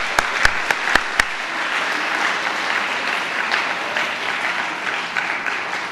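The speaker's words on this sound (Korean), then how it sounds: "박수로서 이분들 격려하도록 하겠습니다" An audience breaks into sustained applause to encourage families standing up at a church gathering. The clapping is dense and steady throughout, opening with a few sharp, close claps.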